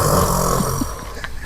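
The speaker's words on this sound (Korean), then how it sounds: "코골이 토너먼트야." Men asleep in a shared room snore loudly and close by, a rough, rumbling drone with throaty bursts that eases slightly partway through, with no talk over it.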